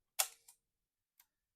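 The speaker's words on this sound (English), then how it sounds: "Let's just point it to like a quarter of a second, just so you can understand and hear how the shutter reacts." A Fuji GW690 medium-format film camera shutter fires at a quarter second: a sharp mechanical click, then a second click about a quarter second later, then a faint tick after a pause. All three are close and stand alone in silence.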